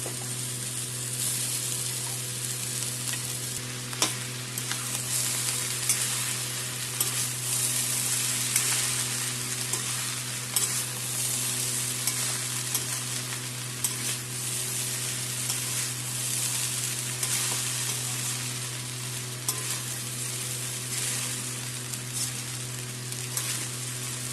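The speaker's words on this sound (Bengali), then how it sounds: "এখন আমার শাক সবজি ভাজা হয়ে গেছে, এখন ভাত দিয়ে দেবো" Rice going into a pan of already fried vegetables and tomato gives a soft continuous sizzle with light stirring scrapes, fairly quiet and even throughout, with no talking.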